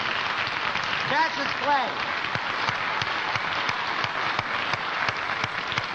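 A 1963 television variety studio audience applauds and cheers steadily, a dense wash of claps and voices filling the whole stretch, with someone speaking briefly over it near the start.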